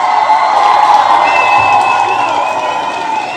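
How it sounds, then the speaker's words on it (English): A studio audience cheers and claps in a broadcast, a loud, steady wash of whoops and applause with bright shouting voices held at an even level throughout. "Ladies and gentlemen, let's give Bounce a round of applause"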